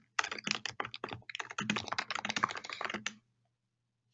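Rapid, steady typing on a computer keyboard, close and clear, with dense clicking keystrokes running for about three seconds before stopping into silence.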